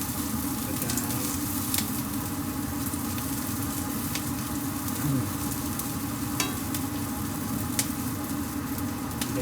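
Onion and garlic sauté in a pan for macaroni soup, giving a continuous, even sizzle close by with faint scattered pops and no voices.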